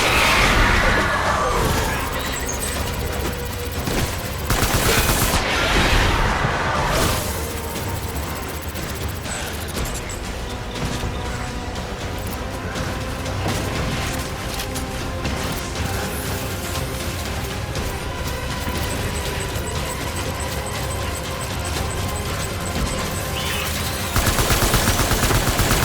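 Gunfire from the video game Death Stranding, a sustained loud barrage of shots and bursts with mechanical clatter running through the whole stretch.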